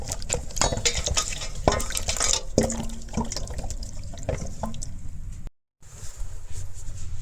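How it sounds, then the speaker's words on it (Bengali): Raw green mangoes being rinsed in water for a spicy homemade pickle, steady splashing and sloshing with drips and brief stirring, close and moderately loud. "প্রথমে জল দিয়ে খুব ভালোভাবে দইমু"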